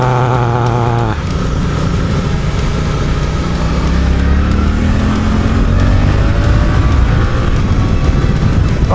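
A Suzuki GSX-8S motorcycle pulls out of a roundabout, its engine note climbing steadily in pitch as it accelerates, loud and close with strong wind rush throughout.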